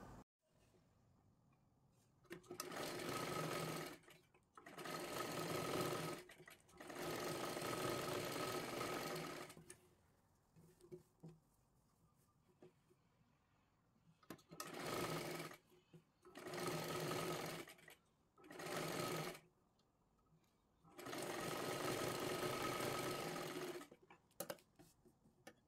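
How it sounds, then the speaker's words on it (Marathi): A sewing machine stitches a katori blouse seam in several bursts of steady whirring, some long and some short, separated by quiet pauses. "इथे पूर्ण शिलाई मारून घ्यायची आहे आधी"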